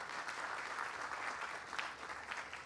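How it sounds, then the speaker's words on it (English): Applause from an audience at a San Francisco Muni transit centennial celebration, a dense, steady wash of clapping that holds throughout without a break. "let's give them a big round of applause"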